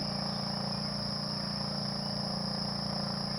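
Crickets chirp at night in Elizabethtown, Kentucky, in a dense, steady, high-pitched trill, with a faint low hum underneath and no voices.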